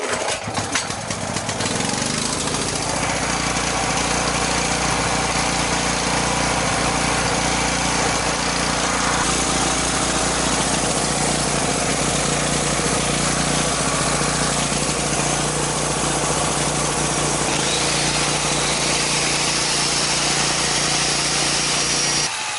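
A small gasoline generator engine runs with the choke on and the air filter fitted, roaring loud and close in a steady, unbroken drone that carries on for over twenty seconds with no voices.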